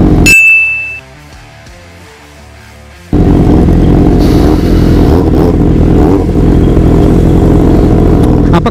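A Kawasaki ZX25R motorcycle roars loudly nearby, revving hard as it passes, after a brief ringing chime and a quieter stretch.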